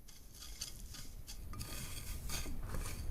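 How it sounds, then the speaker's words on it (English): Seafood is tossed with cayenne pepper by hand, giving soft, close wet squelches and light patters with faint clinks against a bowl, with no talking. "Right, let's mix this with my hands."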